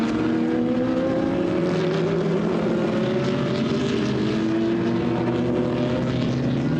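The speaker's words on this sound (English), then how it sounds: "So you hear the cars rumbling, the fantastic sound of the engines" GT racing car engines drone steadily from a distance at Misano circuit, layered rising and falling pitches as several cars circulate the far end of the track during a qualifying race, continuous and fairly loud.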